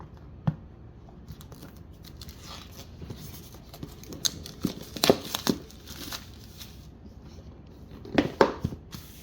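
Cardboard dashcam box and its plastic packaging being opened, GKU D700 4K dashcam: close crinkling, tearing and rustling with sharper snips and crackles clustering toward the middle and end, no talk.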